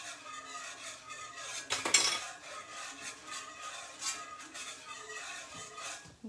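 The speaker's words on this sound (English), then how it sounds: "so keep whisking that in." A whisk clinks and scrapes against a pan while wine is stirred into chicken piccata sauce, light metallic rattling with a louder burst of clatter early on, no voices.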